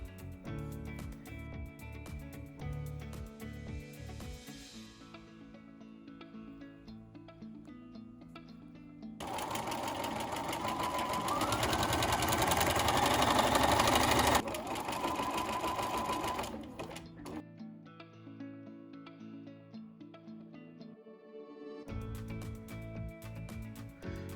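A sewing machine runs steadily for several seconds, stitching two overlapped fabric ends together. The whir is clear and close, with quieter handling sounds before and after.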